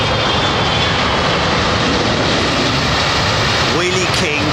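An airliner lands on runway 27R at London Heathrow, its engines giving a loud, steady, broadband roar that stays close for the whole stretch, with a voice speaking over it.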